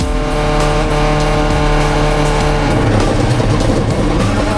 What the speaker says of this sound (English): The number 75 Subaru is sweeping the road again.